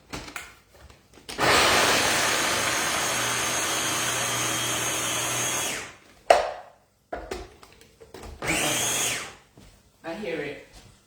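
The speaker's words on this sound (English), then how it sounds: "now I'm going to dump this garlic in my chopper, right? Chop up this garlic." An electric food chopper whirs loudly and steadily for about four seconds while chopping garlic, stops, then gives two shorter bursts, with brief speech in the gaps.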